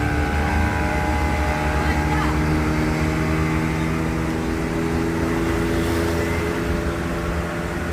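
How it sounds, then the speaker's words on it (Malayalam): A speedboat engine near a homestay on the river at Alappuzha runs loud and steady at close range, a continuous droning hum with a faint voice mixed in. "സ്പീഡ് ബോട്ട് സ്റ്റാർട്ട് ചെയ്ത് പോകുന്നുണ്ടോ"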